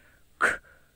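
A person imitates the short breathy chuffing call of a leopard, giving a single soft puff of air lasting a fraction of a second in quiet surroundings.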